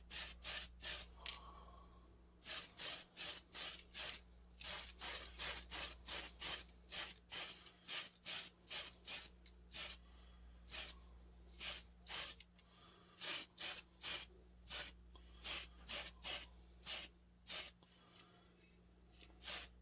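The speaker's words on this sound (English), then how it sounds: "then we'll come back with the airbrush and paint that last one" An airbrush sprays paint onto the hull of a DeAgostini Millennium Falcon scale model in short, repeated bursts of hiss, each lasting under a second, with brief pauses between them. A steady low hum from a compressor runs underneath throughout.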